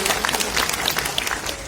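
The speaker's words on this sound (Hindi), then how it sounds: "जोरदार तालियां" Loud applause rises from a crowd at an Uttarakhand Police adventure show on state foundation day, steady dense clapping lasting throughout, close and bright.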